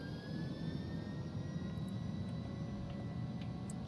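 Jet engines of an A300-600R airliner in a flight simulator game spool up as the throttles advance, a steady broad roar with a faint rising whine, continuous and alone.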